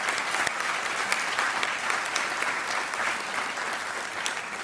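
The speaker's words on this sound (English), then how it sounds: "Round of applause" Steady applause from a doctoral hooding ceremony audience honoring student government representatives, a continuous even wash of many clapping hands, moderately distant.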